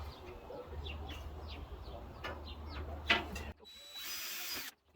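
A power drill with a larger bit bores through galvanized metal for a garden bed, a steady motor whine broken by short bursts and a sharp bite near the end, with birds chirping in the background outdoors.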